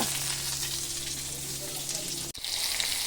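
Hilsa fish frying in oil with large bottle gourd leaves, giving a steady, close sizzle that runs throughout with a brief dropout near the end.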